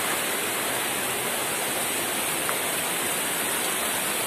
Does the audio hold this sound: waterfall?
yes